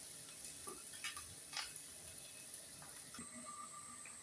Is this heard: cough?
no